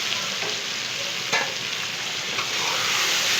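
Tomatoes frying in hot oil with onions and potatoes for a masala fish curry, a loud, continuous hiss and sizzle with a few faint stirring scrapes, close up and with no talk.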